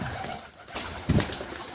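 Domestic pigeons coo in their home loft, several soft throaty calls with one louder burst near the middle, over a low background hum.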